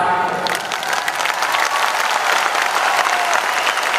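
A hall audience at a motivational talk applauds loudly and continuously, dense clapping with faint crowd noise and a few shouts mixed in.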